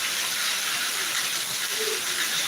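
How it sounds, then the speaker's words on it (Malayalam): Heavy summer rain pours down in a steady, dense hiss that stays constant and fairly loud throughout, with no voices over it. "ഇതാ ഇവിടെ നല്ല മഴ കേട്ടോ ഇപ്പോൾ പെയ്തേ ഉള്ളൂ"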